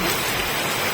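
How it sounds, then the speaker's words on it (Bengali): Heavy rain pours steadily onto a muddy courtyard, a dense, continuous hiss of water drumming on surfaces with no voices. "বিশাল বৃষ্টি হচ্ছে"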